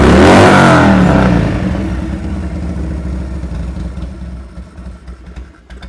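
A Harley-Davidson Sportster motorcycle engine runs while warming up, opening with a loud swelling roar that fades to an uneven, lumpy low idle, close by and without talking.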